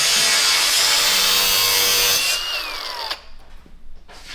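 A handheld power tool drives a smaller bolt into a hole, its loud, close whine held steady and then sliding down in pitch as the bolt seats before the motor cuts off. Quieter knocks follow.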